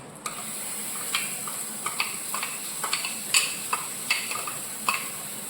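Grated coconut being stirred into a fish-style curry in a pan, with a soft steady sizzle under repeated light scraping strokes of the spoon, close and fairly quiet.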